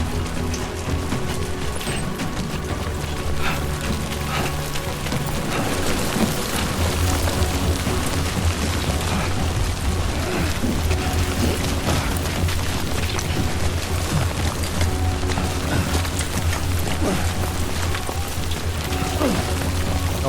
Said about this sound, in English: Great. Rain. Gotta move. Oh, is it timefall?